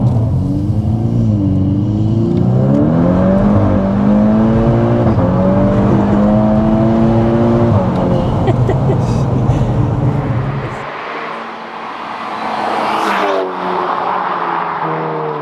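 A Stage 2+ Volkswagen Scirocco R engine revs hard and climbs in pitch through several gear changes, loud and close, then drops away before one more brief surge.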